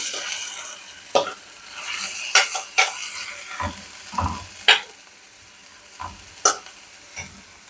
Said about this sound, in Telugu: దొండకాయలు వేగుతూ ఉంటాయి.